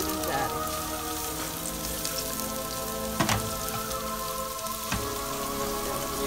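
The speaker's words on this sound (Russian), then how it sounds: "Жарилась наша морковка чуть-чуть." Carrots sizzle and crackle in a pan with oil, a steady dense frying hiss with a few sharper pops and spatters, close and continuous with no talking.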